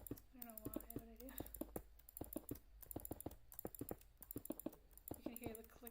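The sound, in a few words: computer mouse clicking near the microphone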